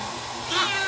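A pet cat lets out a single drawn-out meow, close and fairly loud, rising midway through the brief moment with no speech over it.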